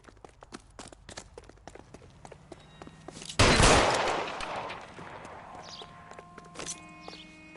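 Gunfire in the video game LA Noire: scattered sharp shots and footstep-like taps, then one loud blast that rings out and fades, followed by a few lighter shots.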